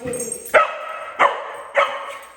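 A dog barks three times in close succession, loud and near, with short sharp barks during a play and training session at home.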